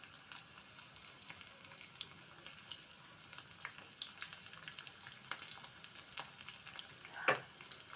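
Crushed garlic and dried red chillies crackle softly in hot oil as a tempering for bottle gourd dal, a faint, steady sizzle with scattered small pops and a brief sharp clink near the end.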